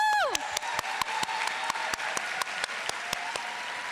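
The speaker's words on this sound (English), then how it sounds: "let's give them a round of applause for all the amazing people who led us through high school" A graduation audience applauds for a high school class of 2019 at River City Science Academy, with sharp claps rising over a steady wash of crowd noise and a tone sweeping down at the start.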